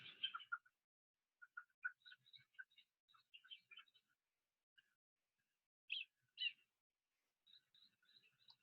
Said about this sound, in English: Clay-colored thrushes.